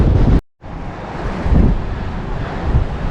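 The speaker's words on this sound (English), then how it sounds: "The wind is blowing my hands around" Strong, steady wind roars across a dusty mountain trail under a high wind warning, a loud, close buffeting rush broken by one brief dropout near the start, then gusting on without pause.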